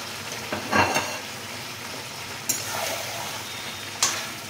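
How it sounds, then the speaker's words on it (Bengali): Jackfruit and fried katla fish heads being stir-fried in a pan, a continuous close sizzle broken by three sharp scrapes and knocks of a spatula. "এবারে শুধু কষার পালা। এই কষতে কষতে হয়ে যাবে"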